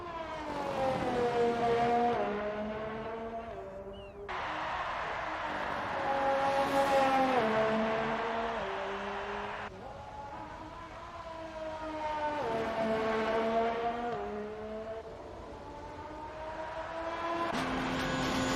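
A Haas Formula 1 car in an F1 video game pushing through a lap, its high engine whine climbing, then dropping sharply at each gear change in a repeating pattern, loud and continuous with no talk.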